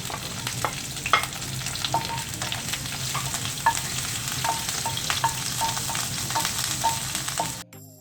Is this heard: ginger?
yes